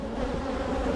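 Aggressive honey bees buzzing densely around a hive during a colony split, a loud continuous swarm drone filling the whole moment with no voices.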